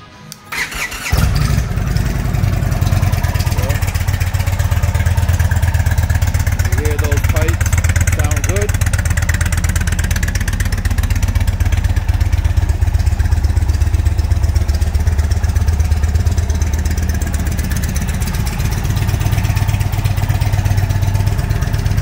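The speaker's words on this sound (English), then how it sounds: "All right, let's start this up so you can hear it." A 2020 Indian Springfield Dark Horse motorcycle with dual exhaust cranks and fires, then settles into a loud, close, steady low idle that holds for about twenty seconds.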